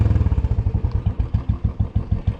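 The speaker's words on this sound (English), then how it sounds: "So from here Amartya is going to ride." A motorcycle engine thumps rhythmically at close range, a loud, low, rapid putter as it idles and starts to ride off.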